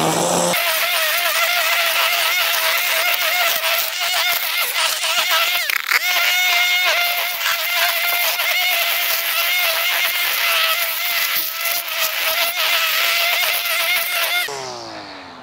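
A Litheli U20 battery-powered string trimmer hogs through thick grass and weeds with a loud, constant high-pitched whine and buzzing rattle, running close by before cutting off abruptly near the end.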